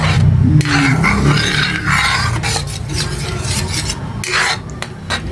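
A spoon rasps and scrapes steadily through spaghetti sauce with ground pork and milk in a pan, a close, continuous stirring with no talk.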